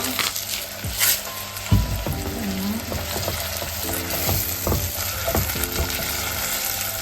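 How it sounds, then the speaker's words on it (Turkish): Vegetables sizzling in a frying pan on a home kitchen stove while being stirred, with steady close frying hiss and scattered scraping, clinking utensil strokes against the pan. "Karıştırıyorum."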